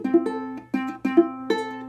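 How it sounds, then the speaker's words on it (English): A ukulele strums a short rhythmic pattern of chords, several strokes in a row, with a slightly buzzy, unclean tone on some strings from loosely pressed fingers. "If you're not squeezing tight enough on those strings, it's going to sound like this."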